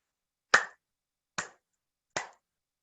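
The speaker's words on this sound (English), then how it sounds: "Clap your hands with me 3 times." Hands clap three times at a fall equinox gathering, three sharp, separate claps evenly spaced about a second apart in near silence, the first one loudest.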